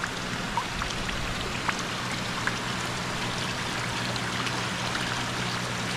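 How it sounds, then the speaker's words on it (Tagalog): Heavy rain pours steadily over a hut beside a koi pond, a dense, even wash of drops and trickling water with no voices. "Lumakas yung ulan oh."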